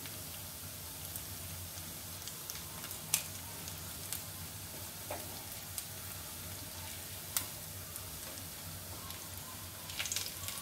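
Veg rice balls frying in hot oil, a steady close sizzle with scattered pops and crackles throughout, continuous and alone with no voices.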